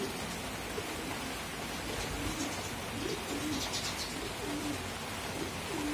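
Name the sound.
racing pigeons cooing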